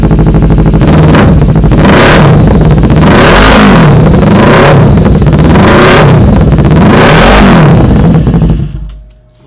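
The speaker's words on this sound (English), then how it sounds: "the best thing of all is the exhaust tone that we brought into life on this 300" A 2014 Kawasaki Ninja 300 fitted with a brand-new HotBodies muffler revs hard and loud up close, about five rising and falling throttle blips in a row before the engine cuts off abruptly at the end.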